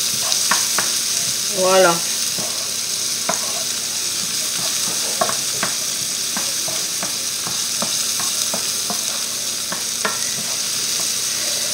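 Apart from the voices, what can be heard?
onions sautéing in a pan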